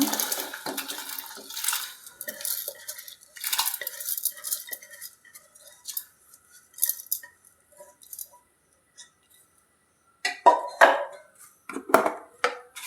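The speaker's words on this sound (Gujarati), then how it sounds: "હવે આપણે પાણી ઉકળી ગયું છે એટલે ભાત નાખી દઈશું" Dry rice pours into a pot of boiling water for Gujarati Maggi bhaat, with scattered clinks and rattling grains, a quiet pause, then a louder burst of splashing and stirring near the end.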